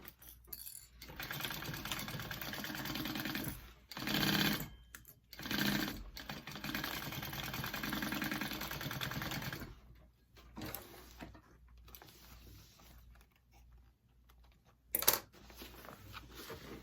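Sewing machine running a 1/2 inch seam on a mini backpack, bursts of fast rhythmic stitching with brief stops between them, fairly quiet and close, tapering into sparse handling noises near the end.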